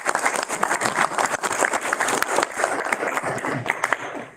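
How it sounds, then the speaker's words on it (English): Audience applause at a school board of education meeting, a dense steady patter of many hands clapping throughout, fairly close and sustained with no voices over it. "Let's give them all a round of applause."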